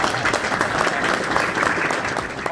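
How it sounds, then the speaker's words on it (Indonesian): An audience claps hands during an Eid takbiran celebration show, a loud, sustained burst of many overlapping claps throughout. "dia ada yang mau tepuk tangan dulu kali ya."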